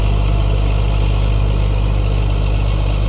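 A 2009 skidder engine idles steadily in winter, a loud, constant low rumble with a droning hum and no change in pace throughout.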